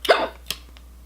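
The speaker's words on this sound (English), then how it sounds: "I'm really sorry for these hiccups." A woman hiccups during a makeup tutorial for Tarte Shape Tape foundation: one sharp, close hiccup followed by a softer second catch and a faint trailing breath, with no talking.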